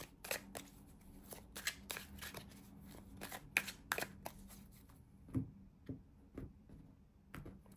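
Tarot cards being shuffled by hand, a series of quiet, crisp riffling and slapping bursts in irregular clusters with short pauses between them, close and soft.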